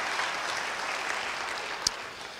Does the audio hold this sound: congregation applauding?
yes